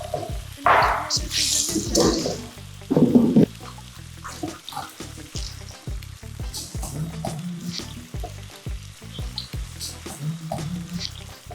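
Plantains fry in a pan for a Caribbean stewed-saltfish meal, with continuous crackling sizzle, spatters and occasional clanks of a utensil, close and moderately loud without talk.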